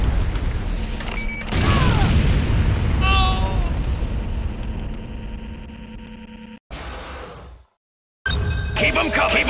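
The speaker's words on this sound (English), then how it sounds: "GDI weapons factory under attack." Repeated booming explosions from an attack on a GDI weapons factory in the video game Renegade, loud and dense with crashing debris, a voice calling out over them, then a brief cutoff before the blasts resume.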